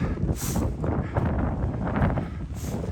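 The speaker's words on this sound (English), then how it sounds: "It's definitely getting windier." Gusting wind buffets the microphone on a snowy winter mountain trail near Tilly Jane and Cloud Cap, a steady broadband roar that swells and eases in waves, close and fairly loud, with no voices.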